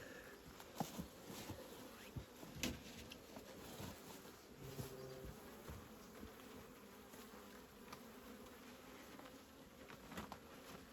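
Bees buzz steadily around open hives in the rain, a dense, continuous drone, close and fairly quiet, with faint rustling and occasional soft knocks; no one speaks.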